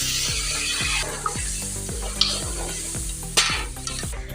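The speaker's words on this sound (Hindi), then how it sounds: "ये देखिए चिकन फ्राई हो गया। मैं इसके अंदर मसाला डाल रही हूँ।" Chicken frying in a pan as masala is added, steady loud sizzling with repeated rhythmic scraping stirs close by, no talk.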